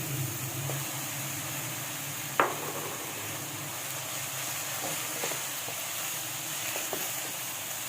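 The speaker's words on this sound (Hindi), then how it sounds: "एक मिनट के लिए मैं चिकन को भी साथ हल्का सा फ्राई कर रही हूँ" Chicken and chopped onion frying together in a pan, a steady soft sizzle and hiss with a few faint stirring clicks and one sharper knock, no voices.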